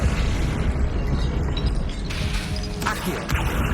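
In the Hogwarts Legacy video game, a Confringo spell goes off as a loud fiery blast over continuous dense combat noise, with a sharper crackling burst near the end.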